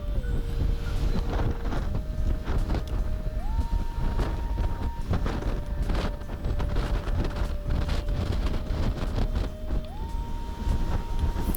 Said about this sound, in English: Pretty windy out here, as you might imagine, being out on the open sea.